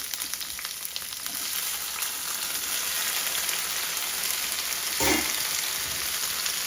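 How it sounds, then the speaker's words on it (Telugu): Brinjals fry in a little oil in a pan, making a continuous fine crackling sizzle, close and even, with a short clatter of stirring toward the end and no talking. "2 టీ స్పూన్ల ఆయిల్ పోయాక మనము కడిగి పెట్టుకున్నటువంటి వంకాయలను ఇందులో వేయాలి."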